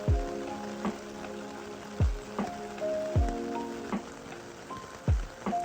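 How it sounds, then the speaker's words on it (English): Rain falls steadily in Osaka with spattering drops on a surface, while deep periodic thumps and tonal sounds repeat every second or so in the background. "went out to enjoy the rain with the locals"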